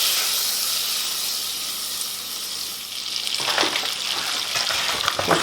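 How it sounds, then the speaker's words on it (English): About 40 grams of butter melts in a hot pan with a steady, loud sizzle and hiss that swells and crackles more toward the end, with no voices. "take a pan, straight in there with our 40 grams of butter"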